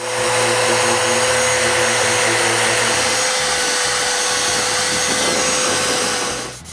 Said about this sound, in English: Now that the glue is dry, I can sand the base.